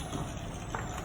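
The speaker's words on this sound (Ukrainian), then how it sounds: "Чергова машинка" A truck arriving and pulling in for welding work gives off a steady, continuous low engine rumble at moderate distance, with no voices.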